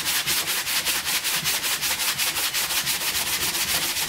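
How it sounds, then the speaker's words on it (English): Emery cloth on a sanding block rubs rhythmically over a crown gear surface from a 2010 Chevy Camaro SS limited slip differential, giving a steady series of close, even scraping strokes. "this is emery cloth, so very fine cloth, sandpaper, and I like to just run it over the surface"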